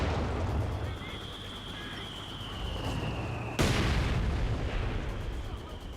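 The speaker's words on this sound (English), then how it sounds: "Got the mortar falling on the back there." Mortar rounds land in the World War II strategy game Company of Heroes 2, a rumbling battle bed broken by one sudden heavy blast midway that rolls out into a sustained boom, with voices in the mix.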